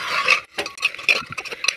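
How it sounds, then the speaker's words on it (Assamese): Pieces of pork frying over a high flame in a pan, stirred with a metal utensil that scrapes and clinks in irregular bursts with short pauses, close and fairly loud. "এই মাংসখিনি আমি এনেকুৱাকৈ দুই তিনি মিনিট এনেকুৱাকৈ ভাজি লৈছোঁ"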